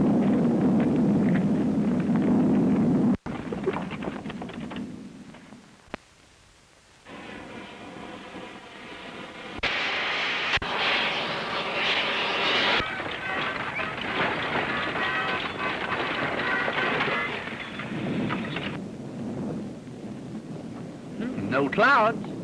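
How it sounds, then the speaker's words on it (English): Low rolling thunder rumbles through an old public-domain sci-fi serial soundtrack, a long broad roar swelling and fading under wind-like noise, with brief dialogue early on. "but that was thunder"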